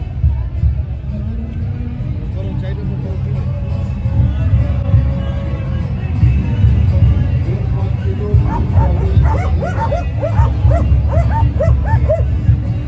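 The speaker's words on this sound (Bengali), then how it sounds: "ও এখানে ডগ শো হচ্ছে।" Several dogs at an outdoor dog show on a busy street bark, yip and whimper repeatedly, with a quick series of yips toward the end, all over crowd babble and nearby talk.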